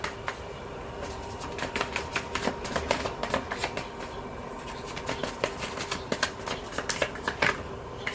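A tarot deck shuffled and cards drawn, a quick run of crisp riffling flicks and slaps repeating steadily, close and clear over a low background hum, no speech.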